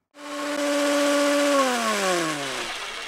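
An electric drill starts with a sharp whir and holds a steady, loud whine for over a second. Its pitch then sinks as the motor slows, up close and without voices.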